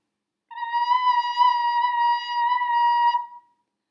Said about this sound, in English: The wobble is caused by not completely covering